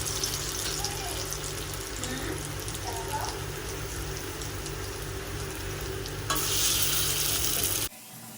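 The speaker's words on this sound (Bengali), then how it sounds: "এই যে এইভাবে গোল গোল গোল গোল করে এই যে তেলের মধ্যে দিয়ে দিচ্ছি।" Round balls of spiced fritter batter dropped into hot oil, frying with a loud, continuous bubbling sizzle that swells briefly near the end, with faint voices in the background.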